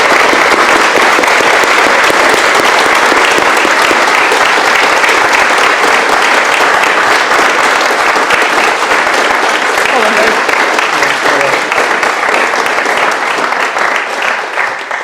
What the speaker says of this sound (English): So I think round of applause for these wonderful people.